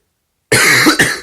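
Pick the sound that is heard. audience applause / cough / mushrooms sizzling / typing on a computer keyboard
cough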